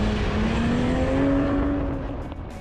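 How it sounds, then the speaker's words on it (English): A Toyota Supra's engine roars loudly as the car accelerates, a rising engine note that sweeps up and then eases off as it passes by, close and with no talk. "The engine sounds great."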